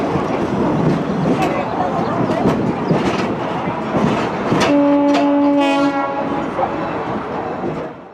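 A train near the Niles railroad station in California rumbles past with rolling wheel noise, then sounds a loud steady horn blast of about a second and a half before the roar carries on.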